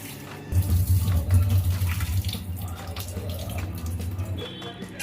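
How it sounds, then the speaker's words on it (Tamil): Toor dal lentils being rinsed under a running tap, a steady rushing splash of water filling and swirling in a vessel for several seconds, close and fairly loud, with no talking. "தோரம்பருப்பை நல்லா 2 டைம் கழுவி எடுத்துக்கோங்க."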